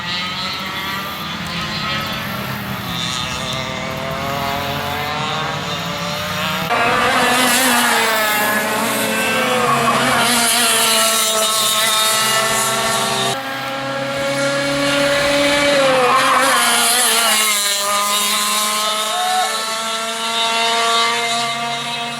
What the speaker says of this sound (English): They got go-kart races.